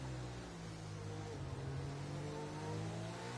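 Race car engines rev and drone in a racing video game, with a continuous mid-pitched roar and gear-changing pitch sweeps, sustained throughout at a moderate level with no talk over it.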